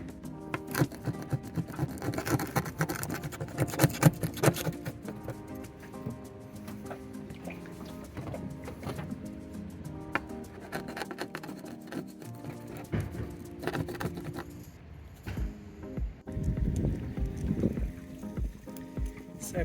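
Old caulk scraped off a boat hull little by little, a continuous rasping scrape with uneven strokes and small taps, close and fairly loud, easing off briefly near the end before resuming.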